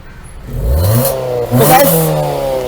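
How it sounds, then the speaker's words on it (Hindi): A modified Maruti Swift with a stage 1 plus performance setup and a remote-controlled valvetronic exhaust revs up close by, climbing into a loud sustained growl that surges again partway through. "मेल्विन थोड़ी सी रेव दियो अभी।"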